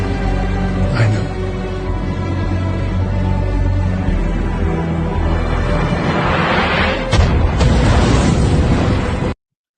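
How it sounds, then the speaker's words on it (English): A played-back recording of missile explosions gives a continuous, heavy rumbling roar with sustained tones, then a sudden louder blast near the end before it cuts off abruptly. "these missiles are going to end this place. And play it again."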